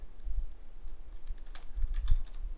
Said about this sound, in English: if I come over here and hit save as watch list, I can come over here and type NASDAQ